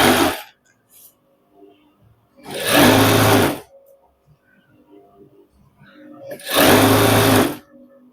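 A sewing machine stitches a shirt in two loud, steady bursts of a few seconds each, with a quiet pause between them where faint low voice and small handling noises can be heard.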